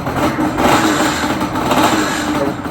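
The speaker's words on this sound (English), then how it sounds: "The rattling you're hearing is those little tabs." A 1998 Yamaha Banshee engine runs steadily at idle on choke with no throttle, a constant close buzzing drone with loose plastic support tabs rattling throughout.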